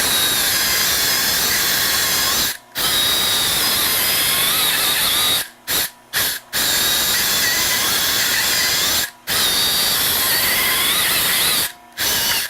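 A hydraulic chainsaw with a 12-inch bar carves wood, its loud steady whine running continuously in long bursts broken by a few brief pauses.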